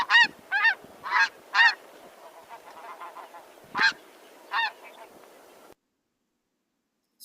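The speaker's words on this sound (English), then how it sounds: "But snow geese, let's listen to them now." Lesser snow geese give a series of single-note honks, about eight loud calls spaced irregularly over several seconds with fainter flock chatter between them, then the sound stops abruptly.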